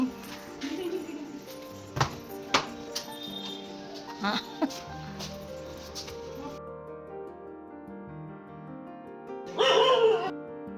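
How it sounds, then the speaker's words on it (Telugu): A dog barks a few sharp times with short yips and whimpers between, somewhat distant, ending in a louder burst of barking. "ఇక్కడ పక్కింట్లో ఒక కుక్క ఉందన్నమాట. అదేంటంటే కింద నుంచి మా ఆయన చూస్తూ ఉంటే అది అరుస్తుంది."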